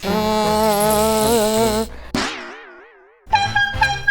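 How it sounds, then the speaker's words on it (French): Air horn blasting loud and steady for about two seconds, then a wavering, falling tone, with a short burst sounding again near the end; indoor game setting. "Tu as un klaxon à air."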